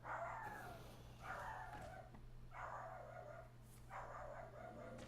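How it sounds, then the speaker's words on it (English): A dog barks indoors, four muffled, evenly spaced barks coming from a distance and sounding faint over a steady low hum. "Sorry about my dog."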